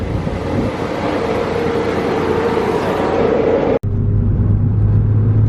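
A Ford Focus ST with a hybrid turbo runs hard on a dyno, a loud, steady roar that cuts out for an instant before settling into a deeper, even drone.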